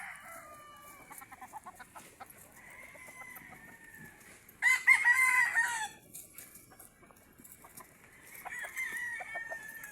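Chickens cluck and chatter quietly in the distance while a rooster breaks in with a loud crow in the middle, followed by more scattered clucking from the flock.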